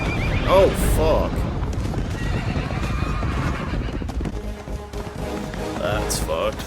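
Horses neigh loudly and gallop in a battle scene from the film Gladiator, whinnies rising over pounding hooves and a dense roar of the charge, with voices talking over it.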